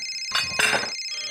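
A mobile phone rings in a family sitcom scene: a short electronic ringtone burst with a bright, steady tone, heard fairly faintly indoors.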